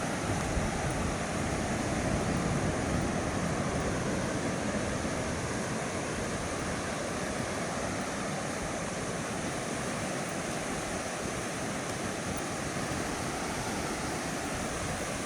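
Continuous rushing wash of sea surf, broad and roaring, with a slight swell early on and wind noise mixed in; no voices.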